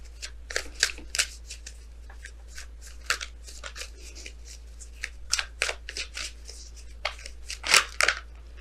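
Oracle cards are shuffled and pulled by hand in a run of crisp riffling flicks and soft slaps, irregular bursts up close with quiet pauses between them and no speech.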